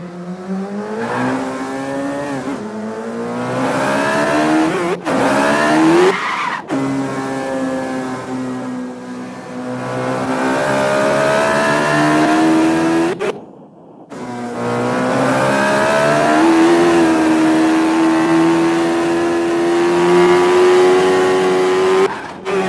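A car sound effect of a loud, close engine that revs and climbs in pitch again and again. Abrupt cuts and a brief dip separate the bursts, with a squealing tone riding on top.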